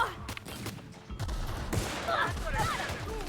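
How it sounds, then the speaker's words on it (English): Rapid gunfire from a firearm in a sci-fi space game with secret labs, a burst of sharp shots building over the second half, mixed with game effects and someone talking. "Let's use a gun I know how to use."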